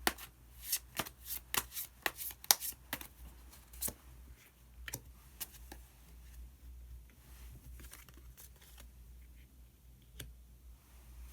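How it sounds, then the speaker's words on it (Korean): Tarot cards are shuffled by hand close-up before a hidden card is drawn, quick bursts of riffling snaps and flicks early on, then sparser soft taps and slides with quiet pauses. "그러면은 히든 카드를 한 장 더 뽑아보도록 하겠습니다."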